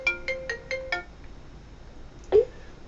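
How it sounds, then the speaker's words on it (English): An electronic ringtone from a hosted dialler call sounds as five quick evenly spaced tonal bursts, followed by quiet and then a single short louder blip. "And again it's ringing me again."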